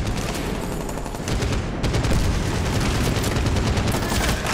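Dense, continuous gunfire and booming explosions from the video game Medal of Honor Warfighter, a loud, unbroken barrage of rapid shots and blasts that swells slightly louder partway through, with no talk over it.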